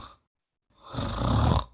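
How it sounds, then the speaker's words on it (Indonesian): Snoring from someone asleep: after a short breath, a single loud, rough, rumbling snore swells near the listener and lasts about a second, then fades out. "kok kayak ada suara ngorok?"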